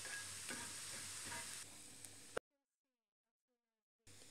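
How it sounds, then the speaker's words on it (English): Cumin seeds dry roasting and being stirred on a heated flat griddle, a steady close sizzle and scrape that cuts off abruptly partway through and returns briefly at the end. "So dry roast the cumin seeds."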